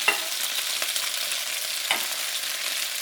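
Ginger fries in a hot pan with browning chicken drumsticks for a curry, a constant close sizzle broken by occasional scraping taps of a stirring utensil, with no talking.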